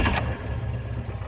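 A Volvo car engine fires up with a short cranking burst, then settles into a steady low idle rumble, close and alone.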